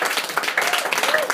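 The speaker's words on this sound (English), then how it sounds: "I want to kind of give him a nice round of applause" Audience applause for a newly promoted bronze leader at a business meeting, a short burst of scattered clapping with some voices mixed in.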